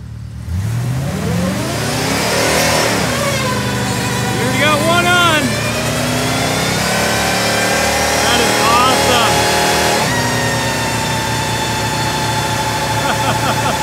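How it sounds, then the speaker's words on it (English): A 1977 Ford F350 truck does a double burnout, its engine revving hard and loud throughout, steady roaring with rising and falling pitch, while people shout and talk excitedly over it. "That's a burnout."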